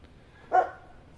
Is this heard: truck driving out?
no